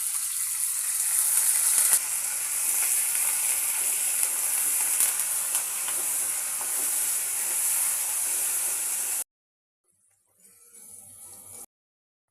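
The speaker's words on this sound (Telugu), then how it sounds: "కలియామాకు, పల్లీలు గోలిస్తున్నా" Peanuts, curry leaves and green chillies frying in hot oil make a steady, loud broadband sizzle for about nine seconds, then cut to near silence before a quieter, softer sizzle returns briefly.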